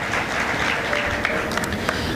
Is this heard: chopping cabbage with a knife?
no